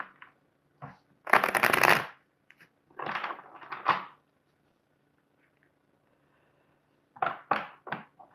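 Tarot cards are riffled and shuffled close by in quick crackling bursts, one long shuffle followed by shorter ones, with quiet pauses between and no talking.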